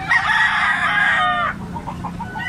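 A young gamecock stag crows once, close and loud, a strained cock-a-doodle-doo lasting about a second and a half, followed by soft faint clucking.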